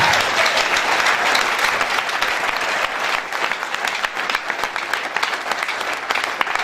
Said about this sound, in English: please clap your hand again for Jesus